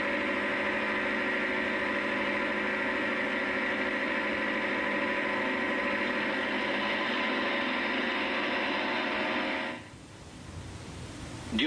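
A Leyland tractor engine runs steadily while ploughing, a close, continuous mid-pitched drone with vibration that holds for about ten seconds, then drops abruptly to a quieter rumble.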